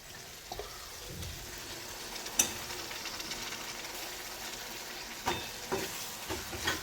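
Soaked moth dal and beans sauté in a pan with a soft sizzle, broken by several distinct scraping, knocking stirs of a spoon against the vessel, moderately close and fairly quiet.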